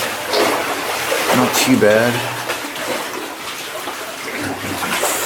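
Water falls steadily in an old gold mine, a continuous wet splashing and trickling close by, while someone talks over it.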